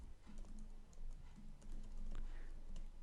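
Rapid keystrokes on a computer keyboard while code for a Solidity smart contract app is typed, a steady close run of clicks over a faint room hum.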